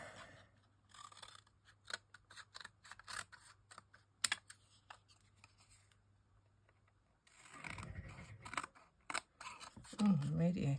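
Scissors trimming papercraft card in a card-making session, with crisp snips in a quick series over a low steady hum, then rustling and handling noise near the end, with some talking.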